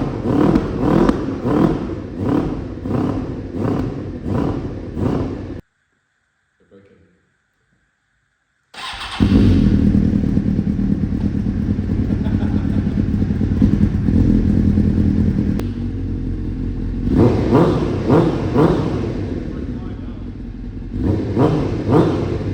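A Suzuki GSX-R motorcycle engine runs loud and close after a carburettor rebuild, with a brief silent gap before it fires again and settles into a steady, rumbling idle with some rises in revs.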